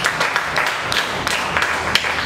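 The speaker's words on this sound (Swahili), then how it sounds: "Tuwapigie makofi tena." An audience at a church prayer service claps in a short, steady burst of applause, mid-distance and moderately loud, with no one speaking over it.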